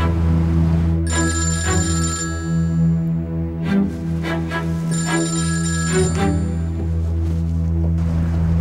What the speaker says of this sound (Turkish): Şimdi telefon ediyor ama.